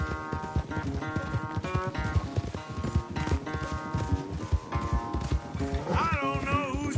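Horses gallop in a race in the video game Red Dead Redemption II, rapid hoofbeats pounding steadily throughout with a faint musical tone rising near the end.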